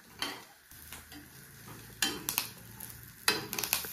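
Cumin seeds and black peppercorns dry-roasting in a pan for a chicken pepper gravy, with quiet crackling and a few louder bursts of scraping and stirring against the metal, close by, no talk.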